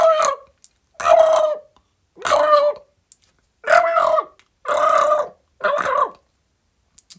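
A man imitates a turkey with his voice, giving six loud, separate gobbling calls in a steady rhythm with short silences between them.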